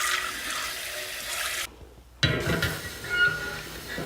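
Steady broadband rush of water running from a tap, cuts off briefly then resumes strongly, close and fairly loud.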